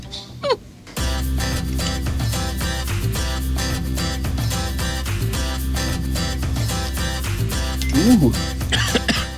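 A few coughs and throat-clearing sounds rise briefly over loud, steady background music, with a voice near the end.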